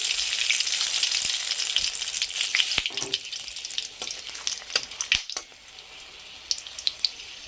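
Bay leaf, cardamom and cinnamon hit hot oil in a dense, loud sizzle that slowly thins out, with scattered sharp spatters and pops near the end.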